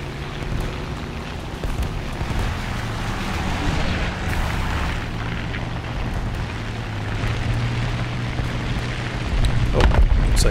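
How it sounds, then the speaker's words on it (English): An anti-aircraft gun fires at an I-15 plane in War Thunder, giving steady loud rumbling bursts over a constant engine drone throughout, growing slightly louder near the end. "there's an AA shooting at our I-15"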